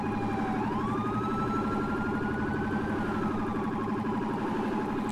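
A police car's rumbler siren in the video game GTA IV wails continuously with rising and falling tones over a heavy pulsing low-frequency throb, loud and constant without talk.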